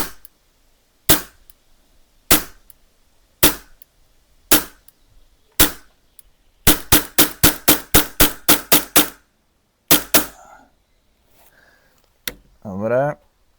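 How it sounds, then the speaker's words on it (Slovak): A Tokyo Marui Glock 19 Gen 5 airsoft pistol fired one-handed, sharp loud cracks first spaced about a second apart, then a rapid string of about eight quick shots, followed by a few handling clicks and a brief rattle. "A teraz jednou rukou budem na to strieľať."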